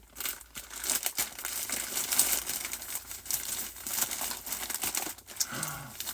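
A package of yarn mail is ripped open, with continuous crinkling and tearing of plastic or paper wrapping close by, irregular and fairly soft.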